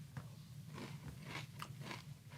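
Raisin Bran Crunch cereal soaked in water is bitten and chewed close up, a quick run of crisp crunches and crackles heard alone.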